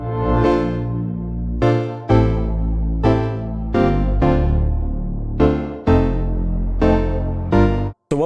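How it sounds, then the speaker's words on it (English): Reversed electric piano and synth chords swell up gradually and cut off abruptly, repeating in a steady loop of about eight loud, rich swells. "we actually have this reverse effect, which is just the first chord of these electric pianos and synths"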